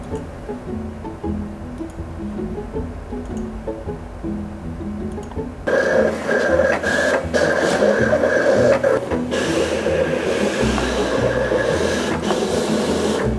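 A sign shop's large-format printer runs steadily, its mechanical hum and carriage movement growing louder partway through and continuing as a busy, textured drone with occasional rasping shifts.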